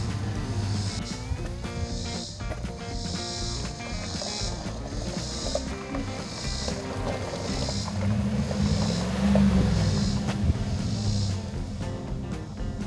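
A pickup truck in four-wheel drive tows a Palomino Solaire RV uphill, its engine a low steady drone with a rhythmic pulsing strain and some wind-like rush over the top.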